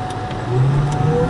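A 2007 Cadillac STS with a supercharged 4.4-litre V8 cruises along, heard from inside the cabin as a steady low engine drone and road hum that swells slightly partway through, with no talking.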